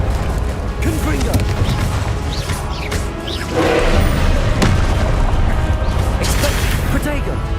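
Confringo fire-blast spell cast in the Hogwarts Legacy video game, a dense booming burst of explosions layered over continuous game music and ambience, swelling louder around the middle.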